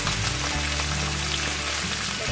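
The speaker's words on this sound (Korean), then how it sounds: "새우가 익을 때까지 잘 섞어주세요" Shrimp with garlic and dried chili frying in oil for aglio olio pasta, a steady close sizzle that holds evenly throughout with no voices.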